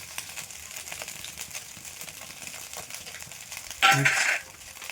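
Cooked rice tipped into a hot pan for egg fried rice gives a short, loud burst of sizzling and clatter near the end, standing out over quiet background kitchen rattling.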